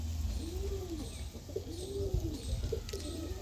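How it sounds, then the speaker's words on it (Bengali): Pigeons coo at a bird market, soft rounded rising-falling calls repeating about three times over a murmuring outdoor background. "দেখো পায়রাটা দেখো, এটা নর, এটা হচ্ছে মাদি"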